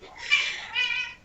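A cat meows twice in quick succession, a short rising cry followed by a second drawn-out one, close and clear with no talk over it.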